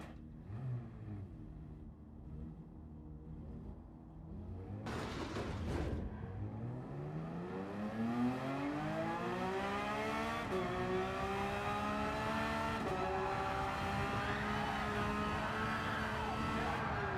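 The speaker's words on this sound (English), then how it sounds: "Yeah, look, my foot is to the floor. I'm trying to get it to oversteer." A race car in Gran Turismo 7 screams at full throttle, its engine pitch sweeping up through several gears with brief dips at each shift, loud and continuous throughout.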